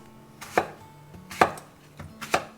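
Three sharp knife chops strike a cutting board while cubing apples, at a steady, unhurried pace, each a crisp close thud with quiet pauses between.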